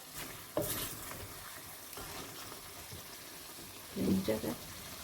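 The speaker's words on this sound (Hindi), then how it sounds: "भून लेते हैं इस तरह से, ताकि इसका कच्चापन जो है वो ख़त्म हो जाए" Chicken and potatoes fry in a pan for a Mirpuri-style gravy, a steady soft sizzle with a brief stirring scrape near the end and a voice speaking over it.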